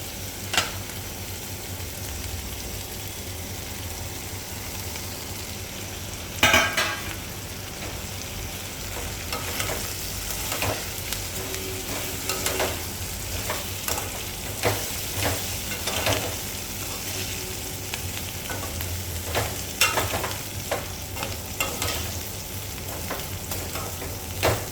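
Vermicelli (semiya) sautéing in a pan for upma, a continuous close sizzle and crackle with repeated stirring scrapes and occasional sharper knocks of the spoon against the pan.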